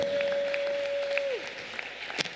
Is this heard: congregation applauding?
yes